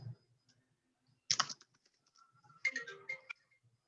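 Faint computer keyboard typing in two short bursts of quick key clicks, separated by near silence, with no talking.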